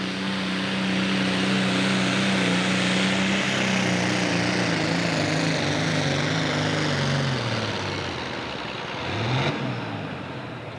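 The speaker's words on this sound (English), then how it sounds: "Well, that's a mighty good tractor." A turbocharged John Deere super stock pulling tractor roars at a 1995 Cape Girardeau, Missouri tractor pull, with a loud, sustained engine drone that slowly falls in pitch before a short final surge.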